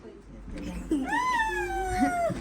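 A cat in Goa lets out a long, wavering meow, close and clear, with a short chirp before it and a small break near the end; a faint voice can be heard beneath it.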